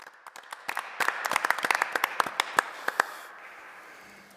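A small town council meeting audience gives a short burst of hand clapping, a scattered patter of individual claps that peaks after about a second and fades out within three seconds, with no talking over it.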